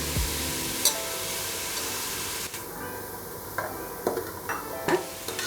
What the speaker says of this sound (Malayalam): ചെറുതായിട്ടൊന്ന് ഫ്രൈ ചെയ്യണം ഇതിൽ.